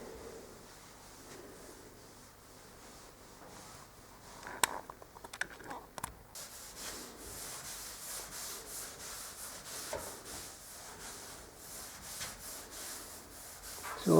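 Tung oil being rubbed by hand onto wooden floorboards, a steady soft scrubbing swish repeating in even strokes throughout, with a few louder knocks and scrapes partway through.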